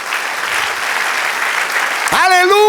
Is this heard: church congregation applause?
yes